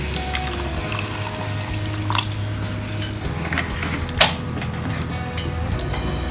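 Water poured into a prawn garlic sauce gravy in a cooking pan, a steady wash of liquid with stirring and a few light utensil clinks, close by.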